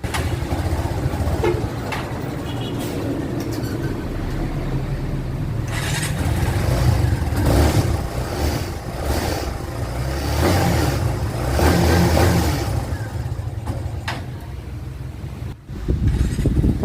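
Kawasaki Barako 3 motorcycle engine with a misfire, revved up and down in uneven surges with choppy, stuttering bursts and a brief cut near the end, close and loud with no talk.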